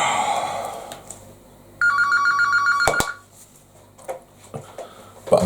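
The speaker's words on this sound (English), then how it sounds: "And that's my phone going off." A phone rings loudly in a home kitchen with a bright electronic ringtone, sounding in one burst and then cutting off, with faint clatter and no talking.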